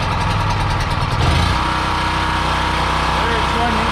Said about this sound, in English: Turn the fuel on, turn the generator on,